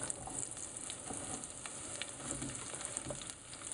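Onions sizzling in a hot pan for a pasta meat sauce, a quiet, even frying hiss with light crackles and small stirring taps, close by and without talk.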